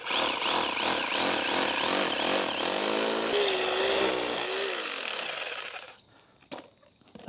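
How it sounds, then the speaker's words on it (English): A Bosch hammer drill with a 3/4-inch bit bores an anchor hole for a safety pool cover, roaring loud and steady for about six seconds before winding down into a few faint clicks. "with a Bosch hammer. The drill bit you're going to need is a 3/4 inch."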